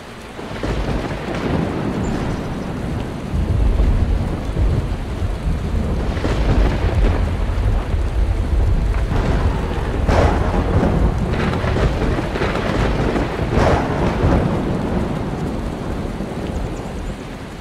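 Steady heavy rain and rolling thunder from a thunderstorm in the video game Skyrim, with deep rumbles swelling and fading over a constant wash of rainfall.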